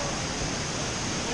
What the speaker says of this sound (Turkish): Ulukaya Şelalesi. Brana Vadisi'nde.